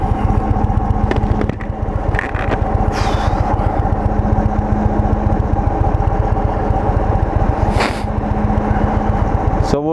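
A 2023 Indian Sport Chief motorcycle engine drones loud and close while riding, a steady low rumble with a faint whine layered above it and brief wind bursts.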